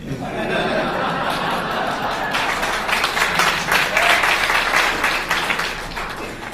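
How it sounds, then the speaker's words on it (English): A lecture audience claps loudly and continuously, with some laughter mixed in, the applause swelling midway before tapering slightly. "You don't have to clap that loud."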